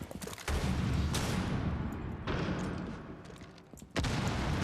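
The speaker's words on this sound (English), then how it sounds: "Flashbang" Flashbang grenade going off in Rainbow Six Siege amid a match: several loud sharp blasts and bursts of gunfire-like noise with rumbling in between, dense and close, no talk.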